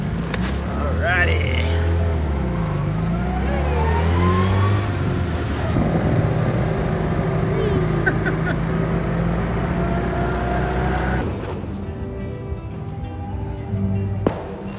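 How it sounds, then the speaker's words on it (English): A tuk-tuk rolls through Thai streets, its small engine droning steadily with rising and falling pitch under voices and traffic noise, loud and close throughout. "We got a tuk-tuk."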